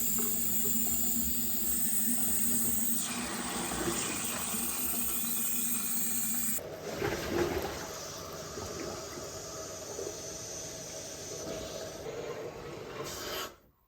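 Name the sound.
air burping out of drained water lines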